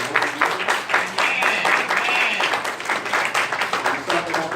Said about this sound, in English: Let's give the adults a hand clap.